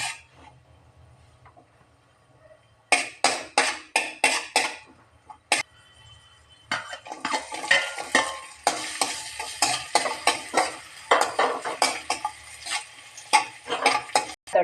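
Cashews and raisins fry in a pan with a soft sizzle. A spoon scrapes and clatters in quick bursts, pauses briefly, then stirs again more steadily, and a single cough is heard.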